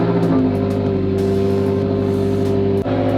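Car engine running on what is meant as its final cold start, a loud steady near tone with revs held throughout and a brief dip near the end.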